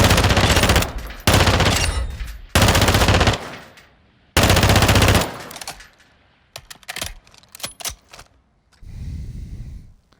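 FR Avancer assault rifle firing in a video game, four loud sustained full-auto bursts separated by short pauses, followed by fainter scattered shots and clicks.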